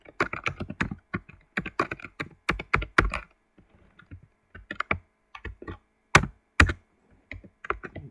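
Fingers type on a computer keyboard up close, with quick bursts of crisp keystrokes separated by short pauses, some louder taps standing out, and no voices.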